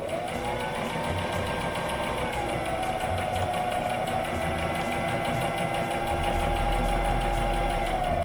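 A sewing machine runs steadily for several seconds, stitching quarter-inch seams on quilt half-square triangles. Its whirring hum holds an even pitch that dips slightly early on, with a soft mechanical rattle underneath.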